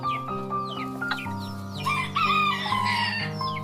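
A green junglefowl hybrid rooster crows loudly and close, its drawn-out call rising and falling over about three seconds, with chirping birds in the background.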